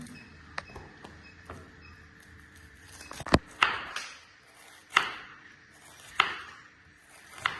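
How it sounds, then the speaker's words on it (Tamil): Onion being chopped on a board for an okra dish, a handful of sharp, close knife thuds spaced unevenly, fairly quiet between strikes. "வெண்டைக்காய்க்கு வெங்காயத்தை வெட்டிக்கிறேன்"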